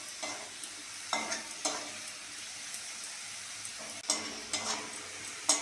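Potatoes fry in a pan for a semolina poha tiffin, a soft steady sizzle broken by periodic scraping stirs of a spatula, close and fairly quiet with no talking.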